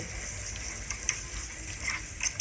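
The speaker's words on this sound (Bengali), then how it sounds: "এখন মশলাটাকে কিছুক্ষণ ভেজে নেব যাতে মশলার কাঁচা গন্ধটা না থাকে" Spice paste of onion, cumin and green chilli frying with potato and eggplant in a pan, a steady soft sizzle with occasional scraping stirs and small bubbling pops, no talking.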